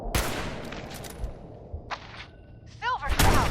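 Sharp gunshot blasts from a Fallout 4 firefight, a loud crack up front followed by later bursts and sci-fi weapon effects, with brief game voices mixed in.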